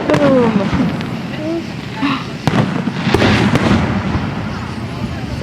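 Fireworks explode outdoors in several loud booms with crackling over a constant rumble of distant bursts. Voices, including a child's, talk briefly underneath.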